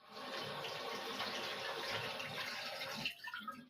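Steady broadband rush of tap water pouring over carrots being washed at a kitchen sink, continuous and close for about three seconds before the flow cuts off and a few drips and splashes follow.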